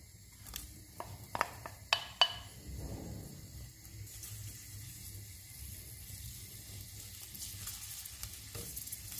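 Leek hits hot olive oil in a pan, a few sharp crackles and pops at first, then a soft continuous sizzle that stays fairly quiet.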